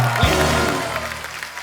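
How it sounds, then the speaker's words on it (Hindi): A studio audience at a TV comedy show applauds for a dance choreographer and two actors, producing a dense, steady wash of clapping that holds throughout and slowly fades a little toward the end. "एक बार रेमो सर, जैकी और टाइगर के लिए जोरदार तालियां"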